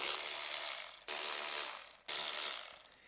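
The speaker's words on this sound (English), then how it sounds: "this cordless ratchet, man, it changes the game" A cordless ratchet spins a bolt on a KX80 two-stroke dirt bike engine in three loud, close bursts of whirring clicks, each about a second long, with short pauses between.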